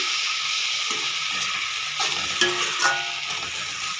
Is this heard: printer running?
no